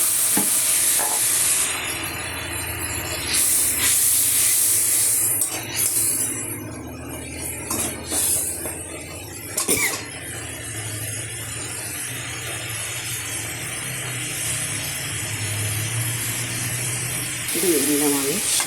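Cumin powder frying in a pan of oil, hissing and sizzling close up as it is stirred and scraped, with a few louder spitting bursts and a sharp clatter near the end.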